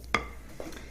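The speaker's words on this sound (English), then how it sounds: "Give it a stir" Spoon scraping and stirring bran muffin batter in a bowl, a single sharp clink followed by a softer scrape, close and fairly quiet.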